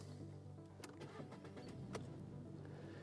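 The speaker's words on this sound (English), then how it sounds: "The little purr that comes from the engine is very pleasant." A Volkswagen Polo engine idles with a low, steady purr, quiet and close, with a few faint clicks and ticks over the hum.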